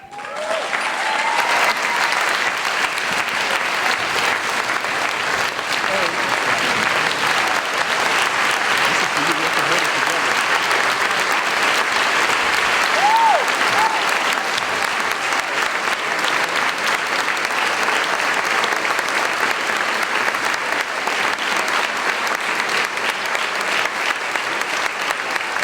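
An audience at the Martha's Vineyard Community Forum applauds Berry Gordy at an award presentation, steady sustained clapping from a large room that holds evenly throughout with a few faint voices mixed in.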